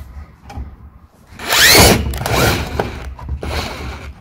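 Power drill boring a hole into the empty cavity of a horizontally installed wall panel before foam filling, a loud whirring burst of about two seconds followed by quieter grinding and a short final bout, close up.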